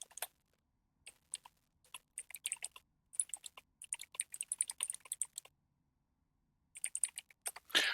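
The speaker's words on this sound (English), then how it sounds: "I can't type. Keyboard is not in the same position it normally is." Quick bursts of clicking keystrokes on a computer keyboard, close and crisp, come in irregular clusters separated by short silent pauses, with no talking.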